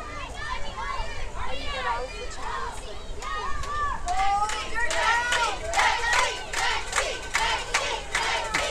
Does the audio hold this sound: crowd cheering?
yes